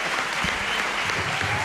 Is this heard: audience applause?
yes